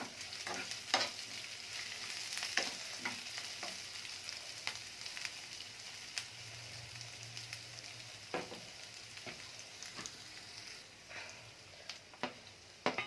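Green chili, capsicum and cabbage sautéing in a pan, a soft, steady sizzle with occasional stirring scrapes and clicks, quiet and close, with no speech.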